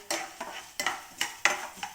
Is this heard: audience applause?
no